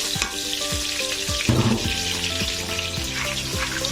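Shallots fry in hot oil in a wok, giving a steady, close crackling sizzle with a louder burst of spattering midway as they hit the oil, no talking.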